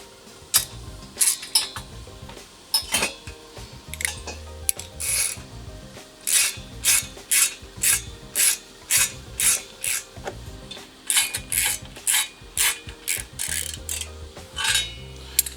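A ratchet fitted with an extension works bolts loose from a truck's front bumper: close, rapid clicking bursts in uneven runs, pausing briefly between strokes, with faint rubbing and clanks and no speech.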